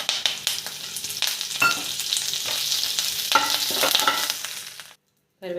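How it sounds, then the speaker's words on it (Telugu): Half a cup of curry leaves crackle and spit loudly in hot oil, with bursts of popping and stirring scrapes, cutting off abruptly near the end before a brief return. "కరివేపాకు ఇలా వేగాలండి."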